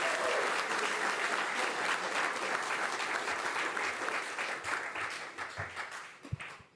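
Sustained, dense applause from an audience at a school police swear-in and promotion ceremony, loud and even at first, then slowly tapering into scattered claps near the end.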